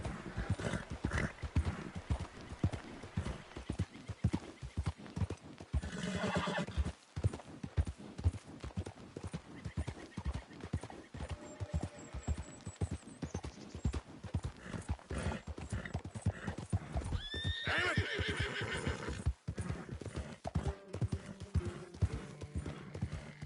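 A horse in Red Dead Redemption 2 trotting with steady, close clip-clop hoofbeats throughout, broken by a couple of whinnies; no talking.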